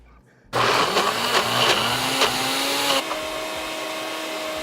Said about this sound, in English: My blender is currently on life support.